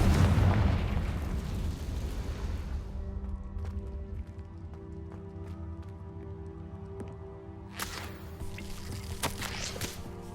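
A Confringo spell explosion in the video game Hogwarts Legacy, a loud, deep booming blast at the start that fades into a rumbling tail, followed by scattered crackles and a few sharp bursts later on.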